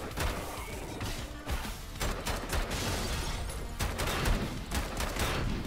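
Pistol gunfire from the video game Bunker Punks, a dense run of sharp shots and crashing impacts mixed with game effects, steady and loud throughout with no talking.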